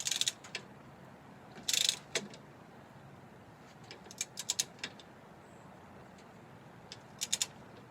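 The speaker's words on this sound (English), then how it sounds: "Just going to tighten these both back up until I get a click." A torque wrench set to 36 foot-pounds tightens suspension bolts during a steering wheel straightening job, giving short ratcheting clicks in several quiet clusters with gaps between them.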